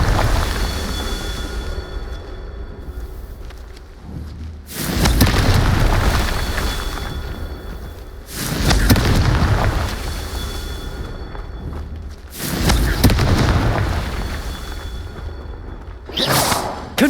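Confringo fire spell blasts in Hogwarts Legacy, four loud roaring bursts spaced a few seconds apart, each a broad fiery explosion that swells and fades into a quieter rumbling background.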